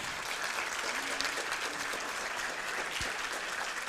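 An audience at a youth departmental council integration day applauds councillor Louise Derrier, a dense, steady round of clapping throughout, moderately distant and even in level.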